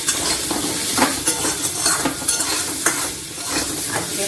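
A pan of cooking food with salt and a little turmeric being stirred, loud continuous sizzle with repeated scraping and clinking of a spatula against the metal pan, no talking.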